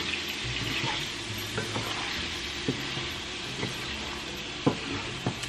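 Ginger stirred into a tofu and vegetable stir fry over medium-low heat, with a steady close sizzle and a few sharp utensil scrapes and clacks against the pan, no voices.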